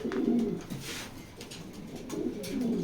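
Racing pigeons in a loft coo softly and close by, with a low throaty burst at the start and another near the end, and no talking.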